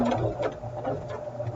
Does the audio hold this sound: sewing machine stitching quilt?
yes